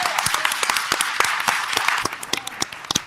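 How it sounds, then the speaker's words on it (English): Audience at a Dolton village board meeting applauds Mayor Pro Tem Jason House: a steady, dense burst of clapping from a room of people, loud and continuous with sharp individual claps standing out. "Give him a hand,"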